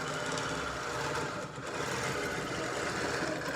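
A Bernina overlocker (serger) runs continuously at close range, giving a dense, even mechanical hum with a slight dip in the middle, and no voices over it.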